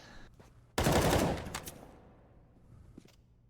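A single sharp burst of gunfire fired through a wall in Counter-Strike, loud and close, cutting in abruptly and decaying over about a second against faint background game sound.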